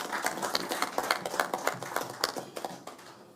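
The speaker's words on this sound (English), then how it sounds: "Those young men deserve a round of applause." A crowd applauds young high school footballers at a ministerial press event, steady scattered hand claps running for a few seconds at moderate level, fading slightly toward the end.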